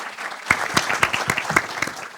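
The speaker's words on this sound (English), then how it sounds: "a round of applause, first of all, for our sharks" An audience at an academic research pitch event gives a short round of applause, with irregular, fairly close hand claps that come in a loose, uneven rhythm.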